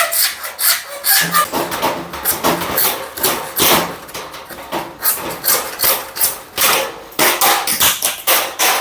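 Rhythmic back-and-forth strokes of a hand saw cutting PVC pipe for boat sand anchors, loud, close and rasping, with brief pauses between bursts.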